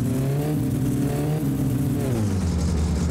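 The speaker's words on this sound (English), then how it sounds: "I was trying to rev the engine so like the fan could speed up" A car engine revving in the game My Summer Car, a steady, loud mid-pitched drone that rises and falls in pitch as the throttle changes.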